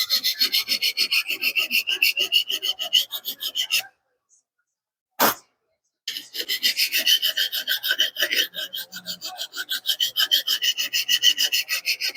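A sanding block rubs back and forth across a boat propeller in quick, even, rasping strokes, close and loud, breaking off for about two seconds before the rhythmic scraping resumes.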